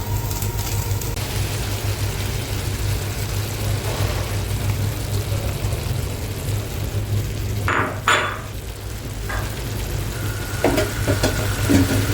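Steady, loud sizzling of dough frying in a pan fills the scene, with a few brief clinks and scrapes of utensils partway through.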